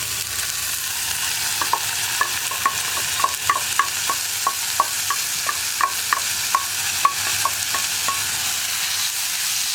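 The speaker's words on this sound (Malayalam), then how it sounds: "ഇനിയിപ്പോൾ നമുക്ക് ഈ കൊത്തി അരിഞ്ഞ് വെച്ചിരിക്കുന്ന ഇഞ്ചി ചേർത്ത് കൊടുക്കാം." Finely chopped ginger sizzling in hot oil while a spoon stirs it, giving a steady fry hiss broken by a regular series of sharp scraping clicks, close and clear, with no talking.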